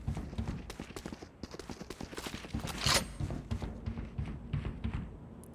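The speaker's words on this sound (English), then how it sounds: "going to hear some footsteps" Rapid footsteps in the tactical shooter VALORANT, a brisk string of close, crisp taps over a busy game background, with a brief sharp burst partway through.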